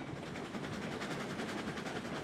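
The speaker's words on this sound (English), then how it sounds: "It's a freight train." A freight train rolls along the tracks in the Railroads Online video game, a steady, faint rumble with a rhythmic clickety-clack of wheels throughout.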